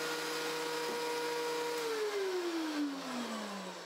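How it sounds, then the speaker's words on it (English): A workshop vacuum and power tool run together as a steady motor whine and hum, then the pitch slides downward as the motor winds down; it is moderately quiet, with no speech. "the vacuum started automatically when I started the"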